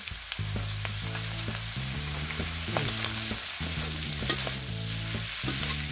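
Noodles with green mussels and carrot being stir-fried in a pan, with a steady loud sizzle and repeated scraping, clattering strokes of a spatula, with no voices.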